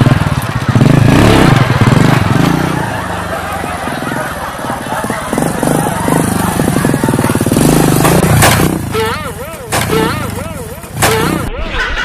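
A motorcycle engine runs loud and close with a rough, continuous idle and revving, heard under excited shouting voices throughout.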